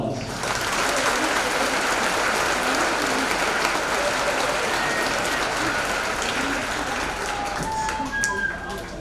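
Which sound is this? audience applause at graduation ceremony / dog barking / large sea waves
audience applause at graduation ceremony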